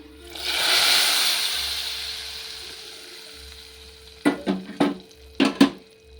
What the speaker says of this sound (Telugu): దీంట్లో పోపు వేసేసుకోవాలి.